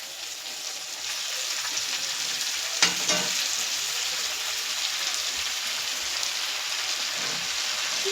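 Wild badari greens frying in a wok, giving a loud continuous hiss of sizzling oil with one brief clatter of handling partway through.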